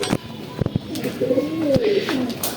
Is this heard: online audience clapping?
no